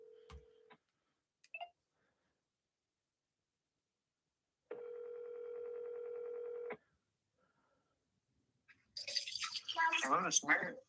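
A telephone is dialed to place a call, giving a steady two-second electronic tone, clear and fairly loud in an otherwise quiet room, followed by louder speech.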